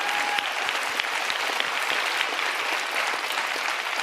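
Dense, sustained applause from a large town hall audience at a Democratic presidential event, steady and loud across the whole stretch with no voices over it.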